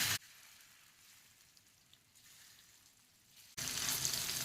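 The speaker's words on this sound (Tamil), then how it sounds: "மசாலா தடவி வச்சிருக்கிறோம்ல இந்த சேனக்கிழங்கு, அதை வந்துட்டு இதில் வச்சு நம்ம பொரிச்சு எடுக்க வேண்டியதுதான்" Masala-coated yam pieces frying in oil on an iron pan give a steady, soft sizzle with a fine crackle throughout, brightening sharply into a louder, hissing fry near the end.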